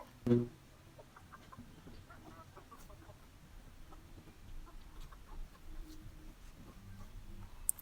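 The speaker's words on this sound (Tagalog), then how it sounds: "Sumasampa na tong ating tandang." Native backyard chickens and a breeding rooster cluck softly in the background of a quiet yard, with one sharper, louder call near the start and scattered small noises.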